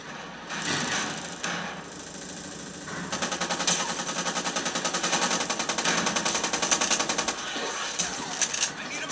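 A shotgun fires in the video game MAG as a rapid series of sharp, regular bangs, loud and close, with a voice talking at times.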